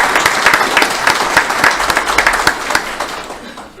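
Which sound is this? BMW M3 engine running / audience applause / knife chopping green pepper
audience applause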